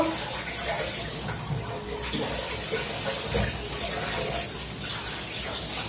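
Tap water runs steadily into a sink while dishes are washed, a continuous close splashing rush with small clinks and shifts, no speech.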